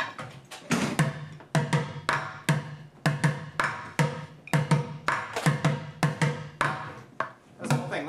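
A drum struck with sticks plays a steady run of flams, each a quick doubled tap with a slightly rough attack, repeating evenly at moderate volume in a small room.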